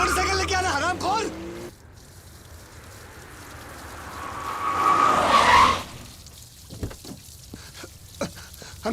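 A car skids as it drives off, swelling into a loud, hissing tire squeal that peaks and fades, after voices and music break off abruptly, with knocks and speech following.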